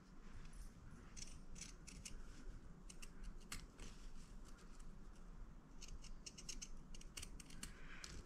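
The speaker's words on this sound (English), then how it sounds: "my favorite way to clip curves is with a pinking shear." Pinking shears clipping into the curved seam allowance of fabric for a little girl's Christmas dress, a series of quick crisp snips in small bursts, close and fairly quiet against a low background hum.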